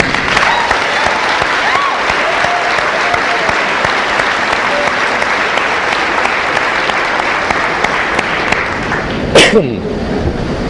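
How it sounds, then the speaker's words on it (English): Sustained loud applause from a graduation crowd at South Point fills the stretch with dense steady clapping, a few cheers mixed in, and a brief sharp burst near the end before it tapers. "ask for a round of applause for everyone here who made South Point feel like a home away from home"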